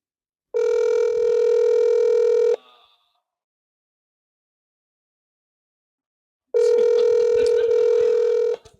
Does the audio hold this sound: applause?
no